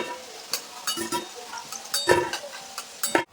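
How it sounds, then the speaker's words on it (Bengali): Fried raw banana koftas lifted from hot oil in a pan, with a steady low sizzle and scattered clinks and scrapes of a spoon against the pan, close and fairly loud. "ভাজা হয়ে গেছে এবার তুলে নিচ্ছি"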